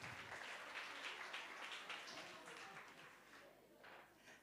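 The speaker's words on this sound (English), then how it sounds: "Let's give her a round of applause" A round of applause from the audience at a women's brunch, sustained dense clapping that tapers slightly over about four and a half seconds, recorded quietly and at a distance.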